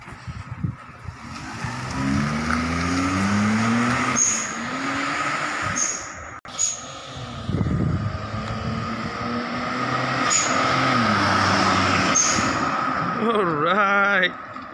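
A Perodua Kancil fitted with a 660 turbo engine revs on a test drive, its engine note climbing and dropping repeatedly with faint high turbo whistles, while people talk in Malay over the noise.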